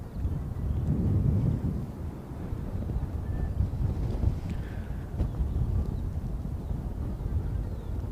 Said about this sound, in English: 風強いのでいい天気でございます